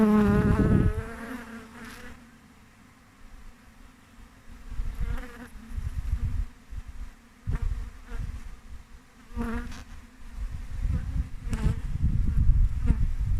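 Bees swarming from a nucleus hive buzz steadily in low, droning hums, the swarm's sound rising and falling as insects fly past up close, with louder bursts near the end.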